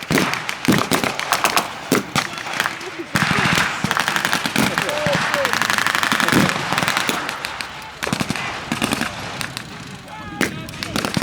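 Battlefield gunfire from a World War II battle reenactment, with German troops, armour and a machine gun emplacement: dense, continuous cracks and bangs, rapid bursts and single shots, loud and sustained throughout, with some voices mixed in.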